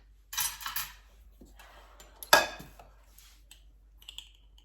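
Dry brownie ingredients, including baking powder and salt, being whisked together in a bowl, light scratchy metal-on-bowl scraping in short bursts with one sharper clink, faint and close.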